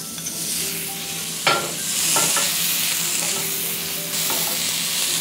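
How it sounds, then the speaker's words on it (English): Broccoli sizzling in melted butter on a hot sizzler tray, a continuous bright crackling hiss with a few sharp pops and scraping stirs, close and steady with no talking. "I'm going to cook butter and immediately add a little broccoli."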